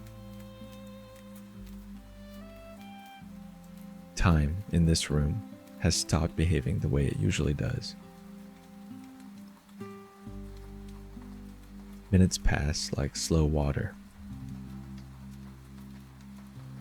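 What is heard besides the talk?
rain falling outside a café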